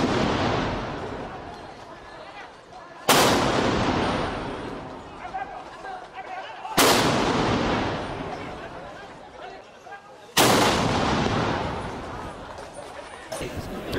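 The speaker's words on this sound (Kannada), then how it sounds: "ಆನೆಗಳು ಮತ್ತು ಕುದುರೆಗಳು ಪಿರಂಗಿಯಿಂದ ಹೊರಬರುವ ಭಾರೀ ಸದ್ದಿಗೆ ಭಯಗೊಳ್ಳದೆ ವಿಚಲಿತರಾಗದೆ ಜಂಬೂ ಸವಾರಿಯಲ್ಲಿ ಪಾಲ್ಗೊಳ್ಳಲಿ" Ceremonial cannons fired in a rehearsal before Dasara so elephants and horses get used to the noise: four heavy booms at roughly regular intervals, each with a long rolling echo, and faint crowd chatter between blasts.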